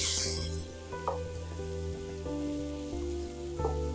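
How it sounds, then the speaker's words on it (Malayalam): Vegetables sizzle and fry in hot oil in a pan, a steady close crackle under faint tonal background sounds, loudest at the start. "ഇതിൻ്റെ പച്ചപ്പ് മാറാൻ വേണ്ടി ഒന്ന് എണ്ണയിലിട്ട് ഒന്ന് ചൂടാക്കിയെടുക്കുക"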